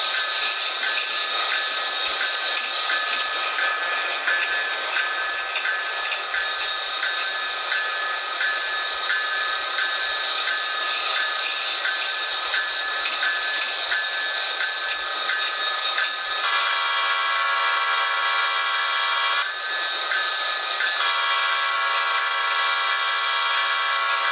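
A grain freight train in the TrainWorks 2 simulator approaching a grade crossing, a steady loud mechanical drone under a long sustained horn blast that shifts pitch twice near the end, with no talking.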